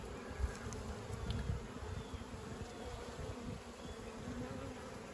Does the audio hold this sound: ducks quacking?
no